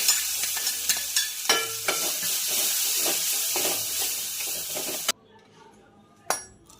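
Mashed potato mixed with salt and fried masala paste being stirred in a pan, spoon scraping and clinking in quick repeated strokes over a light sizzle, close up, then a brief pause and one more clink.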